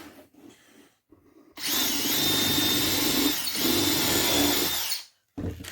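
A power drill pre-drills holes in wood, running in two long steady bursts with a brief dip between them, loud and close, with no talk over it.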